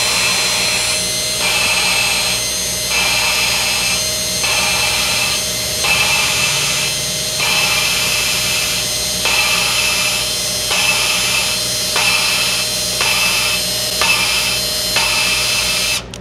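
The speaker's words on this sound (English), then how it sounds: "you can kind of see how we work the drill back and forth while we're rotating" A hand drill spins a lapping tool on a HEMI intake valve as it is worked back and forth, giving a steady whirring drone with regular rhythmic pulses across the whole stretch and no talk.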